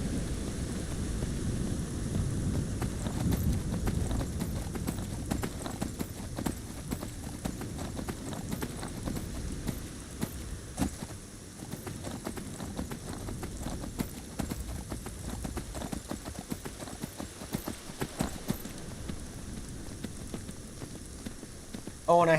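A horse gallops across open ground in Skyrim, its hooves drumming in a fast continuous rhythm that stays loud and close throughout, with no talking over it.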